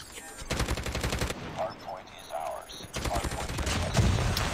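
Kilo 141 assault rifle fire in Call of Duty Mobile, rapid sustained automatic bursts, close and loud, broken by a short pause with in-game effects before firing resumes.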